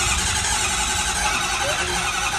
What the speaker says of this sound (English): let the fuel pump run